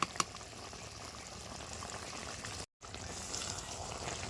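Chicken simmering in water over a low flame on a clay stove, a soft, steady bubbling hiss with a few faint clinks, close and quiet, no voices.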